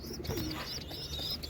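Domestic pigeons in a home loft give soft, low coos, with faint chirps and rustling behind them, close by and steady across a short stretch.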